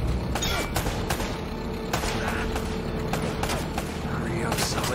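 Gunfire in Uncharted: Drake's Fortune pops in scattered loud shots and thuds amid a chaotic firefight, with voices talking over the shooting.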